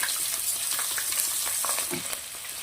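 Green chillies hit hot oil already seasoned with curry leaves and asafoetida for a Gujarati chana dal khaman tempering, giving a steady, close, bright sizzle and crackle that holds throughout, with no voices.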